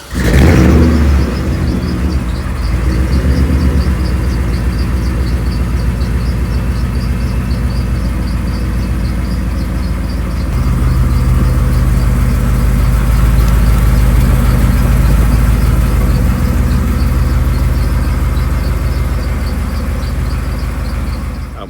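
A 1957 Chevrolet Bel Air convertible with its top down idles steadily, a loud, deep, continuous engine rumble that holds even throughout with a slight rise partway through.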